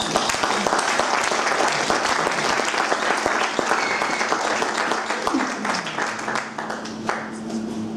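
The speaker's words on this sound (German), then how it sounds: "Ich bitte um einen großen Applaus" Loud audience applause at a Webmontag talk evening, dense clapping sustained across the whole stretch with a few voices and a brief call rising over it toward the end.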